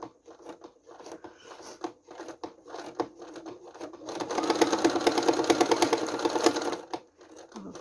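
Sewing machine set on a wobbly tea trolley stitching fabric, a fast close mechanical chatter running steadily for a few seconds after some light handling clicks and taps.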